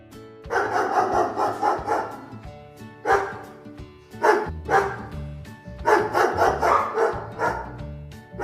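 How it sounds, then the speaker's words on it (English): A dog barks repeatedly in close, loud bursts, some rapid and clustered, others single, with short pauses between. "Dog,"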